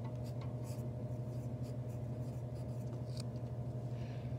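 Pencil scratching across paper on a math worksheet, a soft continuous rasp of small strokes over a steady low hum, fairly quiet and close.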